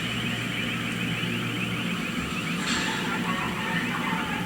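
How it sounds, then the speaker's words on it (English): An alarm sounds during a street protest in Minneapolis, a steady, distant electronic tone repeating over the continuous roar of the crowd and traffic. "I hear some type of alarm going on over there."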